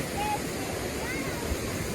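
A hillside stream in Nepal rushes and gurgles beside a village path, a steady close wash of flowing water with a faint voice briefly underneath.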